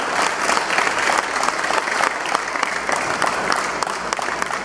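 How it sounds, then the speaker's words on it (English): Applause from a crowd at a boxing event for a boxer's father: a loud, sustained wash of clapping from many hands, steady throughout with no talk over it. "a big round of applause once again for Omar Ali"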